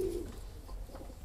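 Pigeons in a backyard breeding loft give a single soft, brief coo at the start, then only a faint low background hum remains.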